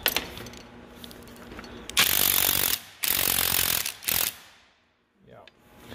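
A ratcheting wrench spins a bolt free on a corn head during teardown, with a sharp metallic clack followed by loud, close bursts of rapid ratchet whirring that stop abruptly, then a faint clink.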